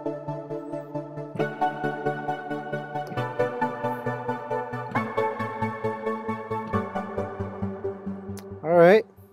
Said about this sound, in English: there is a patch in Omnisphere that sounds like this